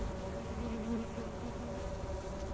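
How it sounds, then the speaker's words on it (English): Bees buzz in the video game Lethal Company, a steady low droning hum of insect wings that holds throughout at moderate, fairly distant level. "No, bees."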